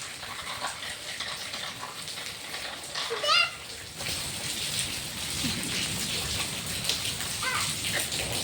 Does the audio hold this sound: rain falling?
yes